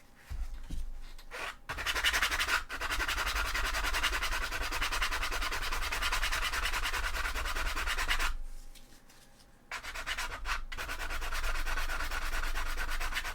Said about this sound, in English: that sanding is a little bit difficult due to